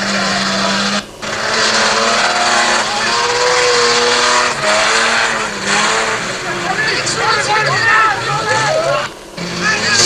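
Race cars slithering around a rain-soaked track in a 1985 club race, engines droning and revving continuously with brief tire squeal, heard under a commentator's voice throughout.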